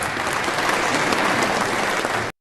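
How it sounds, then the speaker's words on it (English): Audience at an award ceremony in Memphis, Tennessee, applauding with dense, steady clapping that stays loud throughout, then cuts off abruptly. "And they're all giving her a round of applause for Elvis's words"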